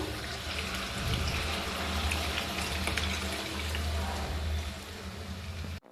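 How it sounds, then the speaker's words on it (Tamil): Water added to a simmering vendakkai kulambu of okra, tomato and tamarind, a steady pouring and splashing rush lasting several seconds before it cuts off abruptly, with no talking. "நான் இது கூடவே பார்த்திங்கன்னா லைட்டாக தண்ணி சேர்த்துக்கிறேன்."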